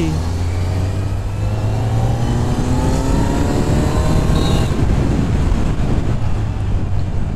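A Kawasaki Z900 motorcycle ridden just after its first service with a new exhaust, engine droning loud and steady with rising and falling pitch as it accelerates, heavy wind rush over the microphone throughout.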